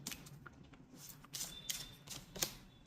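Tarot cards being shuffled and drawn from the deck, soft quick riffling and flicking with a few crisp snaps, close and quiet, no talking.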